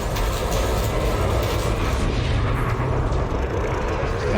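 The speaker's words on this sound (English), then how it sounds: "We'll hammer him with the cannons." Spaceship cannons firing in Elite Dangerous, a loud, dense, continuous roar of rapid fire that holds steady from start to finish with no clear gaps.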